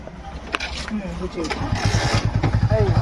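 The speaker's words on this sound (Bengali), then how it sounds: "এদিকে যাচ্ছে দাদাগুলো বাইক নিয়ে" A motorbike engine revs and putters nearby, its rhythmic exhaust beats growing steadier, while people talk over it.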